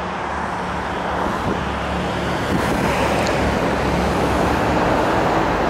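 Dense road traffic in Alanya, Turkey, rolls past as a loud, continuous roar of engines and tires close by, with no break in the flow.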